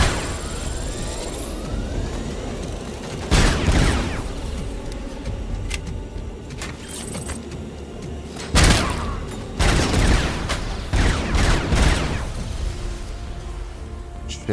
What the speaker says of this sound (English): Got eyes on suppressive fire!